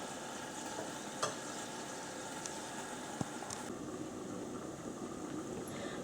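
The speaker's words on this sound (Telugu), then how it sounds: "దీన్ని ఒక్కసారి కలుపుకొని మీడియం ఫ్లేమ్లో మగ్గించుకుందామండి" Tomatoes simmer in a pan over a medium flame for a tomato and red chilli chutney, giving a steady, soft sizzling hiss throughout with a couple of faint utensil clicks.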